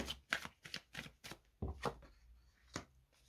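Playing cards are shuffled and drawn for a card reading, producing a series of quick riffling and slapping bursts in an uneven rhythm. They sound close and fairly soft, with no talk over them.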